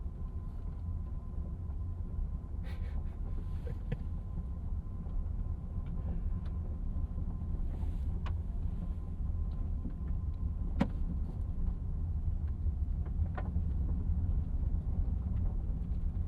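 A 2027 Bentley Continental GT S coupe, a 671 hp V8 model, glides along in silent EV mode, giving a steady low rumble of road and tyre noise with faint wind hiss throughout and a few brief clicks.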